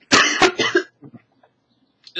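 A couple of harsh, close coughs in quick succession, followed by a few softer throat sounds and a brief cough-like burst at the end.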